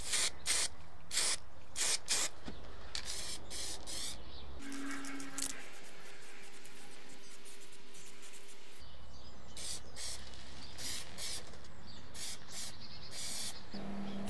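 An aerosol can sprays primer onto the gear shifters of a 54-year-old vintage tiller during restoration, in short hissing bursts, then a longer continuous spray, then more quick bursts, close by with a faint background hum.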